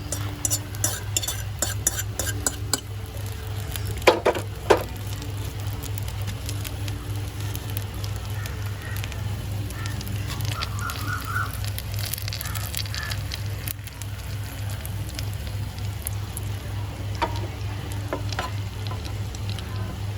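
Maggi noodle omelette sizzles steadily in a hot pan while being stirred and spread, with continuous frying crackle, occasional scrapes and clinks of a utensil, and a low steady hum underneath throughout.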